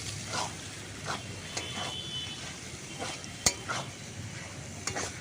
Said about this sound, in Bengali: গরম মশলাটা দিয়ে ভালো করে আবারও একটু কষিয়ে নিচ্ছি